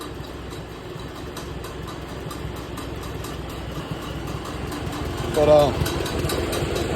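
An IH Farmall Super A tractor engine idles at low throttle with a low, steady chugging rumble, while someone talks over it and the sound swells briefly near the end.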